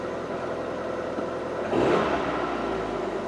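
Car engine fired up and warming at a fast idle around 1500 RPM, a steady low mechanical hum with a brief rise in level partway through, heard alone without talk.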